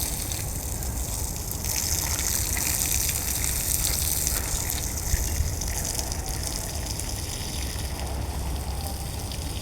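Water gushes steadily and loudly while a rug is being washed with soap on the ground outdoors, a continuous rushing splash with no talk.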